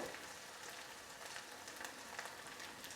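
Onion frying in a pan, a faint, steady crackling sizzle with soft scattered pops and no voices.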